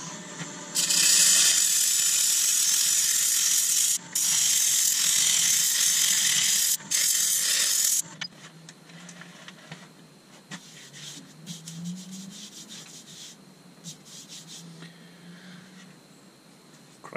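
Rotary tool with 80 grit abrasive sanding an iroko wood vase, a loud high whirring buzz for about eight seconds with brief dips, then quieter scraping and handling noises.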